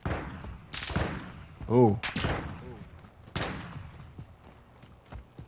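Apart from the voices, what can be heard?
gunfire in video game Call of Duty: Modern Warfare II DMZ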